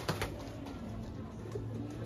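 A racing pigeon coos softly on a rooftop after arriving in the Philippines, low murmuring calls repeating under a steady outdoor background.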